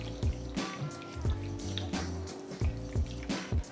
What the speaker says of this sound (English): We stir, and we try to incorporate water